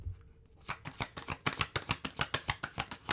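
Rapid crisp riffling of a deck of tarot cards, a quick run of sharp flicks building into a steady rhythmic patter, close and fairly loud.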